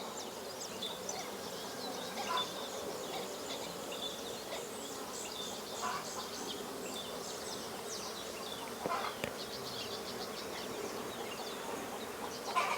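Bees buzz softly around sulfur cosmos flowers on an organic farm, a continuous faint hum with occasional louder passes close by, and a few distant birds chirping.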